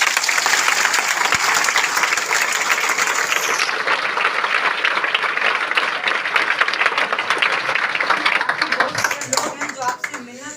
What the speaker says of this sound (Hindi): एक बार जोरदार हाथ उठा के ताली बजा दीजिए